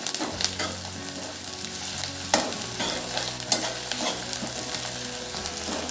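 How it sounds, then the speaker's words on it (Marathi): Garlic paste and curry leaves sautéing in oil over a low flame for a cabbage masala, giving a continuous close sizzle broken by sharp spatula scrapes and stirring knocks. "आता हे सर्व आपण छान कमी गॅसवर परतवून घेऊ"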